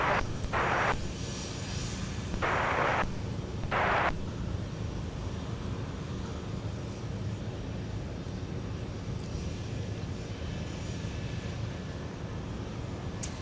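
A jet airliner rolls for takeoff on runway 30 left at Minneapolis–Saint Paul airport, a steady broad engine roar sustained and fairly loud throughout, with a few brief hissing bursts early on.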